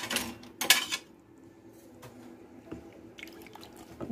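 Water poured into a cooking pot and stirred, with splashing, drips and light clinks of a utensil against the pot, close and fairly quiet, no talk.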